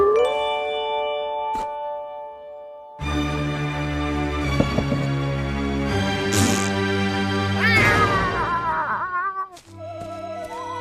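Cartoon cat meowing in an animated series, several tonal, whining cries with bending pitch over a bright musical backdrop, loud and close, with no speech.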